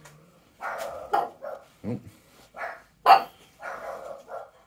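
Several dogs barking indoors in a rapid string of sharp, close, loud barks with short gaps, a brief exclamation from a person among them.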